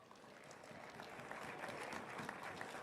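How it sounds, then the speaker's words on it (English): Faint, steady applause from a crowd at the ND Esports State Tournament honoring sponsors, a distant even patter of clapping hands that builds slightly. "Round of applause for them."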